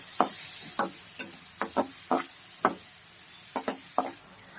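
A spoon stirs tomato egg curry seasoned with salt and turmeric in a pan, giving about a dozen sharp, evenly spaced clacks and scrapes against the metal. The sound is close and crisp over a faint background, with no talking.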